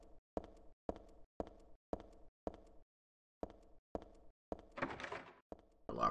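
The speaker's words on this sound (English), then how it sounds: "Locked doors." A locked door in Silent Hill 3 gives a series of evenly spaced, close, clunky rattles, about a dozen in quick rhythm, with one longer clattering shake near the end.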